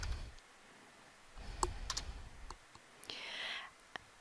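A computer keyboard gives a few faint, scattered key clicks and taps in a quiet room, with no steady typing rhythm.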